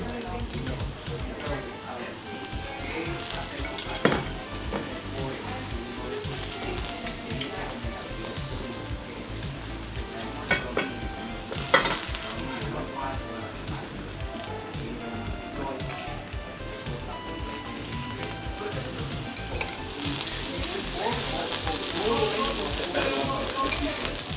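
Kobe beef sizzling on a teppan griddle in Japan, a dense, steady hiss and spatter that holds for a long stretch, briefly louder with a few sharp clinks, as people talk nearby.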